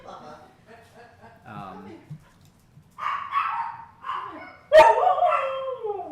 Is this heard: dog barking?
yes